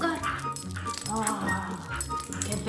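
Four-month-old golden retriever puppy on a walk, yipping and whimpering nearby in short bursts mixed with rattling, while a person talks over it.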